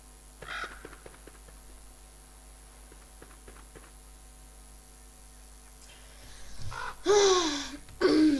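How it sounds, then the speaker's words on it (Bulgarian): Crows caw a few times near the end in the video game Don't Starve, loud bursts coming in after a quiet stretch of faint ambient tones and soft clicks. "Тъпи гарги да ме пукнеш дома."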